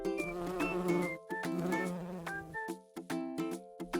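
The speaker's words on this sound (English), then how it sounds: "Buzz." An insect buzzing, heard as a close, steady, nasal drone with wavering pitch that breaks off into several short bursts with brief silences between them.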